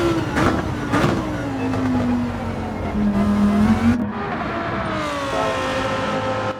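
Race car engines on track at Autopolis in Gran Turismo 7, a loud, steady engine whine that rises and falls with gear shifts and passes, continuing without pause.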